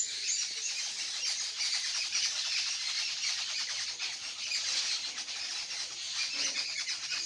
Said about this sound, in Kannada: ಕೇಳಿದ್ರಲ್ಲ ಸ್ನೇಹಿತರೆ, ಹಕ್ಕಿಗಳ ಕಲರವ.